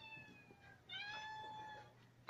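A house cat meows in a kitchen during home cooking, giving a couple of drawn-out, fairly clear calls with a short pause between them, heard alone without talk.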